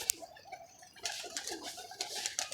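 A racing pigeon suffering from paralysis, giving soft low coos in short repeated phrases close by, with light rustling and a few faint sharp chirps.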